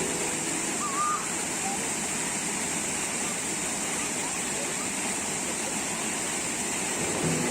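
Steady rushing of a water stream flowing at a spring on Trail 5 in Islamabad, Pakistan, a constant dense wash filling the whole clip, with a faint bird chirp early on.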